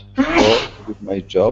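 A single loud, close sneeze bursts out, followed by a person speaking.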